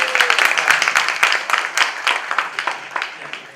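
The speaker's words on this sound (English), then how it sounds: "So please give him a big round of applause." Audience applause at a university international students' event, distinct individual claps in a lively, moderately sized crowd, crisp and close, tapering slightly toward the end.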